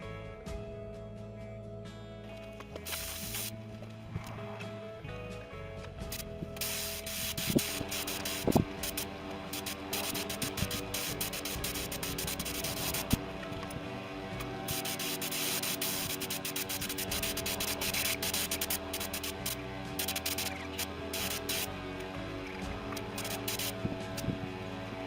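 Yacht varnish is sprayed on in hissing bursts that start after a few seconds and continue in long, uneven spells, over a steady mechanical drone and hum.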